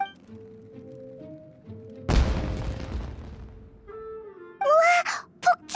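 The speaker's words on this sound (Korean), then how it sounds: "우와, 폭죽." In Genshin Impact, a loud firecracker burst erupts amid quiet game music, a booming crackle that fades over a second, followed later by sharp popping bangs.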